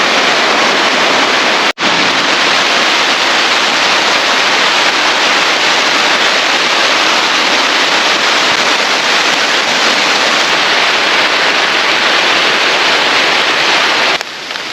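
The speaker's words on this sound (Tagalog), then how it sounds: "Maririnig mo yung bagsak ng ulan sa tarp natin" Heavy rain pounds steadily on a camping tarp during a solo night camp, a loud, dense and unbroken hiss that fills the whole stretch with only a brief dip near the start.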